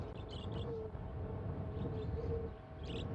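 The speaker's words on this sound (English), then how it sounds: "The sound of winds and chirps." Wind ambience in the Myst video game, a steady low rush with a few brief high chirps from stock bird sound effects scattered over it.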